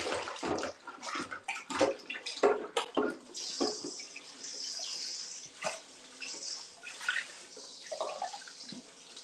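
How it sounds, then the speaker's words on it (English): Water runs from a kitchen tap with a broken fitting while hands are washed under it, splashing and gurgling unevenly close by, with brief clatters in between. "Gotta wash my hands again."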